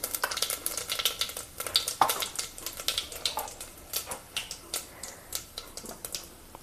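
Whole cumin seeds and a pinch of asafoetida crackle in hot oil, a soft, fairly quiet sizzle dotted with quick irregular pops and spits.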